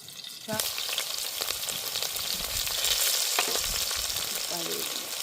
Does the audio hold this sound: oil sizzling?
yes